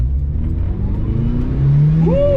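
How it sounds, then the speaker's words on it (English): A turbocharged Ford Mustang SVO Fox Body accelerates hard on a test track, its engine droning loud and close from inside the cabin, pitch climbing steadily toward the end. "You can feel that turbo kick in."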